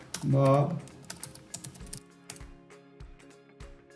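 Computer keyboard typing for a login, a loud burst of voice near the start followed by a sparse, irregular run of soft key taps.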